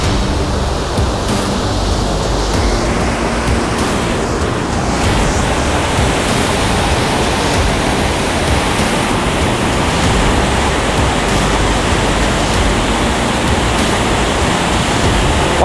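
Floodwater torrent roaring under the Chống Chơ bridge during a historic flood, a loud, dense, unbroken rushing wash of water that fills the whole scene with no talking.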